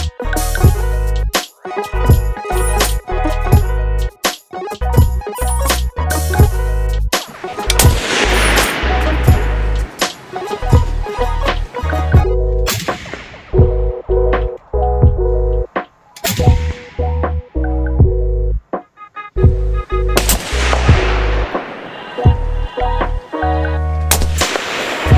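Rifle fitted with a DPT suppressor and muzzle brake end cap fired at a range: loud, sharp reports in rapid strings and spaced singles, some with long ringing tails, continuing throughout.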